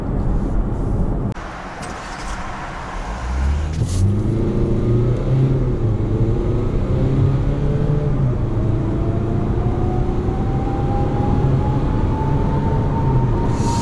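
A Chevrolet Malibu 1.6 diesel accelerates hard toward 100 km/h, its engine drone climbing steadily in pitch after a brief lower moment near the start, with continuous road and wind noise heard from inside the car.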